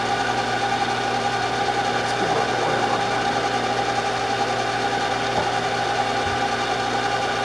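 A steady, loud mechanical drone of a drill boring a pilot hole through the center of a workpiece held in a vise, running continuously with a constant motor hum and no pauses.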